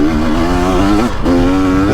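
A 2023 Beta 300 Race Edition two-stroke dirt bike engine revs loudly and close up on a woods trail, its buzzing tone climbing, dipping briefly, then holding high.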